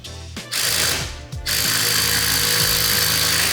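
A power drill drives large screws into a garage wall to mount a cable tensioner for a wall-mounted garage door opener, giving a loud grinding whir with brief pauses near the start and then continuous driving.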